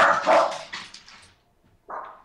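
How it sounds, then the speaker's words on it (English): A dog barks a few times nearby in quick bursts, then pauses before one more bark. "my dog's barking"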